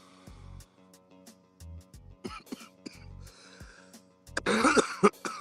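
Several short coughs and throat clearings up close, with a harsher burst of coughing near the end over a low steady hum.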